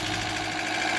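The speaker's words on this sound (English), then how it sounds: "twin opposed motors, similar to a Volkswagen motor, but it is a rear wheel drive" Twin opposed engine in a rear-wheel-drive car, similar to a Volkswagen motor, running with a steady mid-pitched drone and slight vibration, close and continuous for a brief moment without voices.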